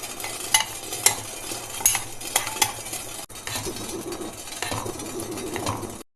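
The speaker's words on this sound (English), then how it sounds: "This chocolate melts really fast, so you can start stirring it." A spoon stirs Amul Bitter Intense 90% dark chocolate as it melts in a bowl set over boiling water, giving close scraping clinks against a steady low simmering hiss, with no talking.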